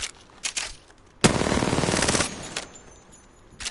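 Sustained burst of automatic gunfire from an Apex Legends weapon, a dense rapid volley lasting about a second, with a few scattered single shots before and after, loud and close.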